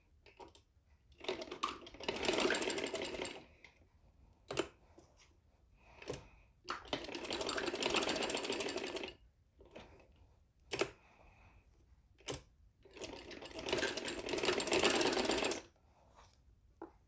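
Sewing machine stitching a fabric patti for trouser trim runs in three sustained bursts of rapid mechanical whirring, separated by pauses with scattered clicks and handling noises.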